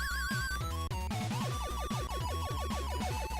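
A video game checkpoint sound: a busy burst of bright electronic tones, with rapid chiming arpeggios and bouncy synth notes layered over a steady low bass, loud and continuous.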